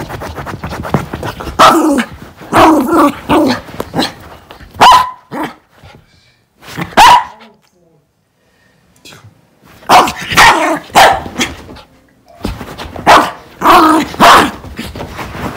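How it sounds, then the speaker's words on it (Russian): A wet, dirty dog just after being bathed barks loudly and excitedly indoors in several close, rapid bursts separated by brief quiet gaps. "С ума сошел, ты громко лаял."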